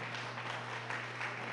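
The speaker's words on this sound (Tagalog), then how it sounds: "Palakpak yung Ginoo, hallelujah." A church congregation applauds during a sermon: a dense, steady wash of many hands clapping at once, brief and fairly even in level.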